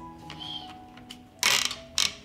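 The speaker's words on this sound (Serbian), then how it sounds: "Zatvaram ekspres lonac" A pressure cooker lid being closed, light clicks and scrapes followed by two sharp metallic clacks and rattles near the end, close up, no talking.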